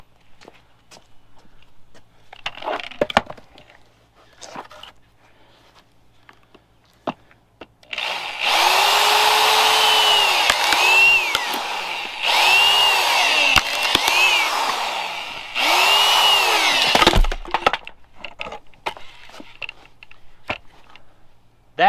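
A firewood splitting drill bit bores into a log, three loud bursts of straining motor whine with the pitch sagging under load, separated by brief pauses and surrounded by quieter clicks and knocks.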